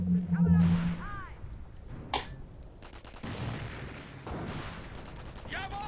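Sharp sniper rifle shots crack out a few times in Company of Heroes amid game sounds and chatter, with voices talking over the action.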